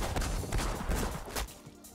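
Rapid pistol shots from the Deadly Pistols move in The Strongest Battlegrounds video game, a dense cluster of loud, punchy bursts that stops abruptly after about a second and a half.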